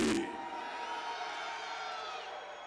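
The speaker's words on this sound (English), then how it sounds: "I'm gonna hear you scream." A live wrestling reunion crowd roars back in a sustained burst of screams, whoops and cheers, loud and dense from the first moment and tapering only slightly across the short stretch, with no single voice standing out.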